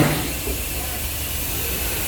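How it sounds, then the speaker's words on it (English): A 1916-era steam locomotive on a heritage railroad releases a continuous broad hiss of steam, loud and steady throughout. "So I got to ride on a 1916 era steam train."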